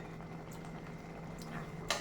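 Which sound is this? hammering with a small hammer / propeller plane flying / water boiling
water boiling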